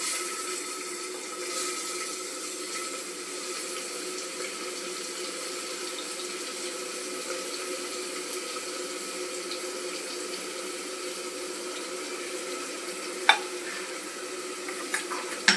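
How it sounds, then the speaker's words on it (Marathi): Bay leaf and onion frying in hot oil, a steady close hiss and sizzle running throughout, broken near the end by a few sharp clinks, with no voices. "आता तेल तापलेलं आहे आपण तेजपत्ता टाकून घेऊया आणि कांदा टाकून घेऊया"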